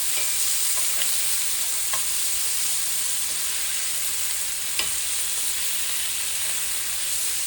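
Venison tenderloins sear in a hot pan, giving a steady, close frying hiss with a few faint clicks and pops and no talking.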